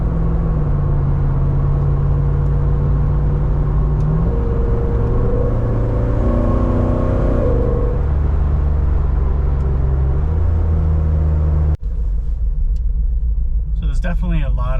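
Hemi V8-swapped Jeep with an 8-speed automatic driving, a deep steady engine rumble that rises in pitch as it accelerates and shifts, then settles, with a person talking over it throughout.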